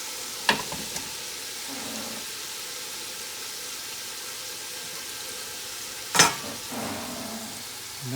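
Food browning over high heat in a hot pan, a steady close sizzle and fry with two sharp clatters of stirring or utensil knocks near the start and middle; no one speaks.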